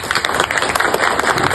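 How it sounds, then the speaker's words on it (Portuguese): A church congregation gives a short round of applause at a memorial gathering, a dense, loud burst of many hands clapping close by, lasting under two seconds with no voices on top. "Salva de palmas para Deus."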